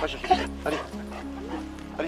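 A seven-month-old hunting dog yips and barks in short bursts close by during a small-game hunt in Provence, while a person keeps talking encouragingly over it.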